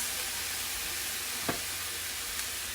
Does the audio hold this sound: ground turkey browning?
yes